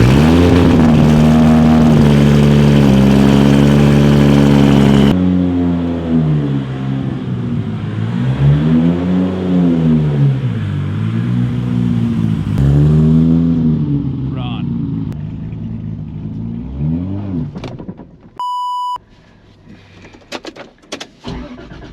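A big-turbo Toyota Supra JDM supercar rated at 1400 horsepower and known for spitting flames revs repeatedly, its engine note swelling and falling in loud waves up close, with voices over it and a brief electronic chime near the end.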